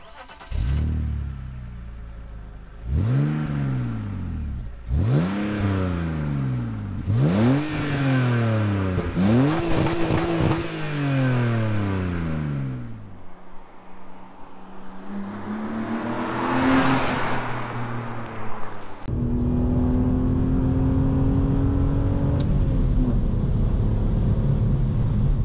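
A BMW 330Ci E46 with a 3-litre engine revved repeatedly while stationary, each blip swelling and falling back to idle, then a longer sustained rev and a steady higher hum, close and clear.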